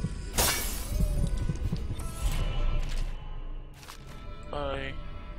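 Glass box shattering in the Dishonored video game: one loud, sharp smash with scattering shards, followed by quieter game sounds and a voice speaking at moments.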